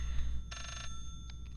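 A telephone rings in the horror video game Layers of Fear: one clear electronic ring burst followed by two short, quieter bursts, standing out over a low rumbling background with no talking.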